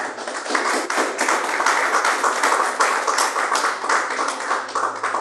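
A church congregation claps together in steady, dense applause during a worship service, the sound full and sustained throughout with no voices rising above it.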